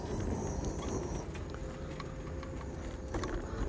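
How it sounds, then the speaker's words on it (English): Donkey hooves clip-clopping on a seaside beach, faint irregular soft thuds under steady broadband beach and wind noise, with a few scattered clicks and no clear voices. "the donkey rides run from here as well"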